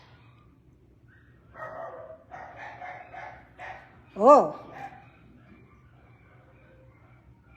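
A neighbour's dog named Ella barks outdoors, a single sharp loud bark following a stretch of softer indistinct sounds, with a brief spoken exclamation nearby.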